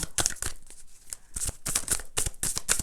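Tarot cards being shuffled by hand, heard as repeated crisp riffling bursts in quick succession, fairly close and moderately loud, with no talking over them.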